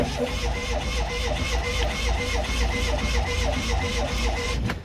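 An old Fiat 500 engine, sitting unused for a long time with empty fuel lines and float bowl, churns over on the starter in a steady, rhythmic cranking that runs evenly for several seconds.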